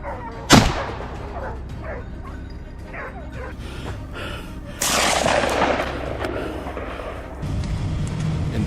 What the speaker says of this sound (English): a decisive gunshot rang out